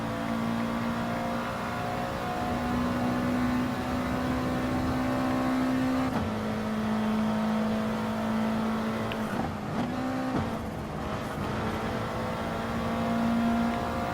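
Gr.3 race car in Gran Turismo Sport, engine holding a steady droning tone that dips and climbs again through gear changes, continuous and fairly loud.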